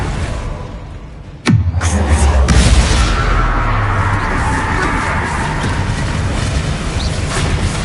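A loud, sudden blast from the Bombarda exploding spell in the Hogwarts Legacy video game booms out, then rumbles and tails off into a long, noisy decay.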